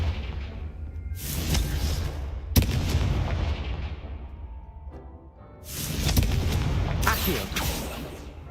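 A Confringo blasting spell in the video game Hogwarts Legacy fires as booming, whooshing explosive blasts, with a sharp crack near the start of a second burst and more heavy bursts later, all loud and close.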